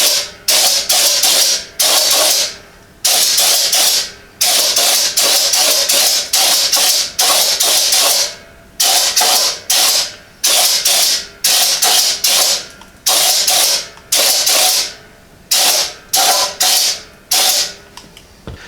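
Repeated bursts of Fluid Film aerosol rust-proofing spray hiss, each lasting about a second, separated by short pauses, loud and close.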